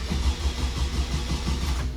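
A Holden VY SS Commodore with a turbocharged LS engine and T56 gearbox cranks and catches, giving a loud, close, continuous low rumble that settles into a steady idle with no talking.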